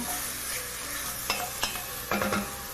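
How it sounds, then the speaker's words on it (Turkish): Meat fries with a steady, dense sizzle in a pan while a utensil stirs and scrapes it in a few distinct strokes, close and alone without talk. "Şimdi etlerim kavruluyor. Gayet de güzel kavruluyor."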